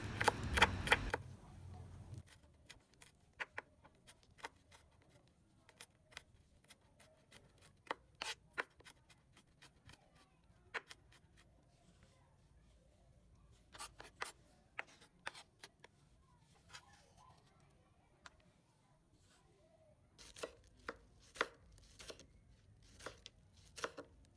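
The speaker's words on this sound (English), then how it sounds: "For the garlics, I crushed them using the back of the knife and then chopped into smaller pieces." A knife chops crushed garlic on a cutting board in quiet, irregular taps and short bursts, close and fairly faint, with brief pauses between runs of cuts.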